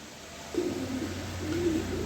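A pair of pigeons, an Afshan grizzle cock and a tiger-grizzle hen, give soft, low coos in two drawn-out bouts, faint against a steady background hum.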